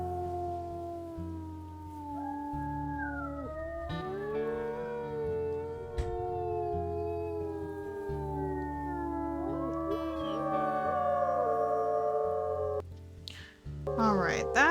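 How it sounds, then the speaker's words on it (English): Wolf howls from the WolfQuest video game, long rising and falling tonal calls layered over steady background music, several voices overlapping through the clip with a louder burst near the end. "So let's go ahead and howl this one up"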